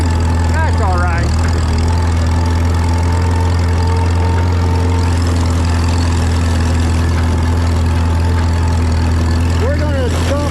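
A tractor engine idles out of gear while a mulcher feeds hay in a field, a loud, steady low rumble running throughout, with brief squeaky mechanical sounds near the start and end.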